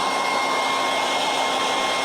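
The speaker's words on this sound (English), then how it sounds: "I will hit this with the hairdryer to make sure that's really dry" A handheld hairdryer blows steadily over freshly painted canvas in an Easter stencil craft project, a close, continuous broadband whoosh with no talking.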